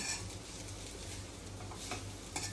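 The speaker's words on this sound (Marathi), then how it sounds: "फक्त एक मिनिट आपल्या परतायचं आहे नारळ" Grated coconut is stirred in a pan with ghee for karanji filling, giving a steady soft sizzle and scraping under a low hum, with a few brighter clinks of utensil on pan near the end.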